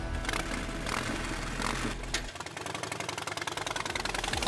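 An 883 cc Sportster motorcycle engine idles with a fast, even chugging pulse, fairly quiet and steady, with a brief shift in tone partway through.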